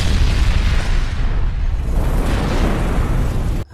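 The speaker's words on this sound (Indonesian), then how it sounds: "Ia segera membuka satu granat dan berhasil meledakkan monster tersebut." A grenade blast in a zombie film, detonated near spilled fuel to blow up a monster: a loud, deep, rumbling explosion that roars and slowly fades, with no talk.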